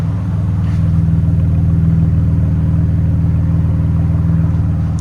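A 2008 BMW Z4 with a 3.0-litre inline-six and a muffler delete idles close by, giving a steady, loud, deep burbling drone with a fine rhythmic pulse. It stays even for the whole stretch and no one speaks.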